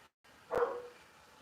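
A single short dog bark from somewhere away from the microphone, faint and slightly muffled, against quiet room tone.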